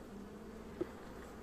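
Honey bees buzz inside a hive as comb is being built, a faint continuous low hum throughout with one brief soft tick in the middle.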